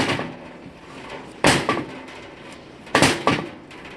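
A bowling pin used as a body-work hammer knocks against the quarter panel of a 1927 Ford Model T coupster: two pairs of sharp, hollow strikes, each pair close together, standing out loudly over a quiet background.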